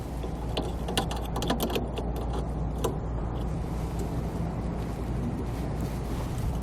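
A quick exhaust valve end is threaded by hand onto a braking actuator, with soft scraping and a few small metallic clicks and taps over a steady low hum.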